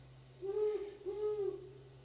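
An owl animation from a Halloween hologram projector hoots twice in a steady, clear pattern over a constant low electrical hum, no voices.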